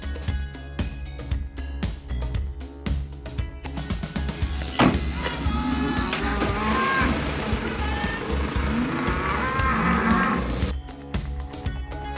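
Cattle mooing inside a farm shed with troughs, long drawn-out lowing calls rising over a steady mechanical hum, fairly close and loud, with a thud partway through.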